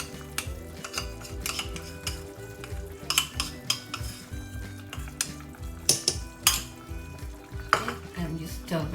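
A spoon stirs flour into a meat and vegetable stew in a pot, giving a steady run of scraping and clinking against the metal over a soft bubbling simmer, with no voices.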